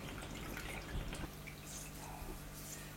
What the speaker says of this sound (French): Il faut presser jusqu'à ce que ça fasse un goutte à goutte